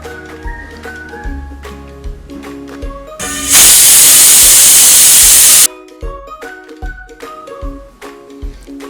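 A pressure cooker cooking sea moss with a cup of water lets out a single loud, sustained hissing whistle lasting about two seconds, set between quieter kitchen clatter and bubbling before and after.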